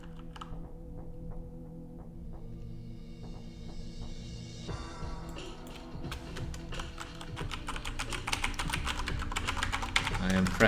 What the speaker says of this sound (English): I am pressing just about every key on my keyboard here.